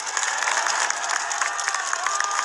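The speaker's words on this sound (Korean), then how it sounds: "허평한 장군님, 박성부 장군님께 큰 박수를 해 주시기 바랍니다" A crowd at a memorial ceremony for President Park Chung-hee applauds loudly and continuously, a dense wash of clapping with a few faint cheers mixed in.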